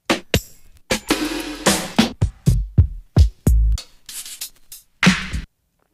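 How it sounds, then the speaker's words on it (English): Drum hits chopped from old hip-hop vinyl records play one after another, a sequence of punchy kicks, cracking snares and short hi-hats with a clap, each struck separately with brief gaps, dry and unprocessed. "6 snares, 5 kicks, and 5 hi-hats, or 4 hi-hats and a clap"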